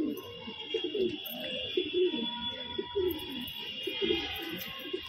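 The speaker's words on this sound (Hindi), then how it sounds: "और यहाँ पे जोड़े वाले गुटक रहे हैं" Paired pigeons coo softly in a repeated, throaty rhythm, a low steady murmur from several birds basking in sunshine, with faint background hum.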